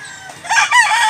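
A gamecock crows at a chicken seller's in Cebu, one loud, close, wavering cock-a-doodle-doo standing out clearly over quiet background noise.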